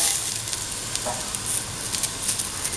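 Garlic pieces hitting a hot frying pan while cooking a cottage cheese and ash gourd coconut milk stew, a steady close crackling sizzle with small popping spits throughout, no talking.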